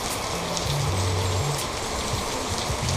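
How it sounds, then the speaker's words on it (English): Steady rain falls in Charlotte, a dense, even patter that continues without a break through the whole stretch, with a low hum underneath and no voices. "it's raining here in Charlotte"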